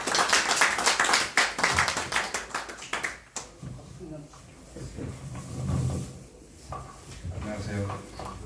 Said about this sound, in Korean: 나오실 때 큰 박수로 맞이해 주시기 바랍니다